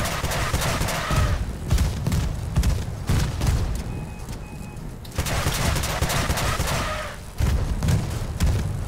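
Six Trombone cannons on an Aurora support build in the vehicle combat game Crossout fire in heavy repeated booming volleys, with loud bursts around the one-, five- and seven-second marks over a constant rumbling backdrop.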